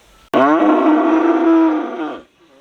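A Holstein Friesian bull calf on a farm lets out one long, loud moo close by, a sustained tonal bellow lasting nearly two seconds before fading, with no talk.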